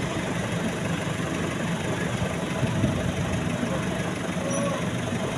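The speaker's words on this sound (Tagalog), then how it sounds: "Pinapadaan yung malalaking truck doon." Large trucks idle and pass on a congested town road in Samar, a steady broad engine rumble with continuous traffic noise throughout.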